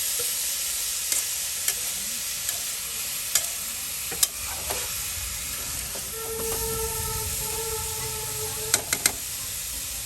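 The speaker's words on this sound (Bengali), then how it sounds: "ভাজা ভাজা করে নেওয়া হচ্ছে।" Potatoes with egg fry in a pan, giving a steady soft sizzle with occasional clicks and scraping taps of a utensil, plus a brief tonal hum partway through.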